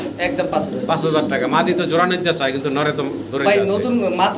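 Pigeons at a pigeon seller's stall coo softly and intermittently, nearly buried under continuous close-up conversation between people haggling.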